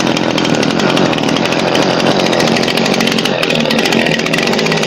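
Loud, continuous buzzing roar of a 5 hp small engine running after carburetor work and cleaning, steady and close throughout with no pauses or speech.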